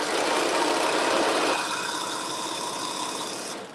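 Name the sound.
sewing machine stitching two back pieces together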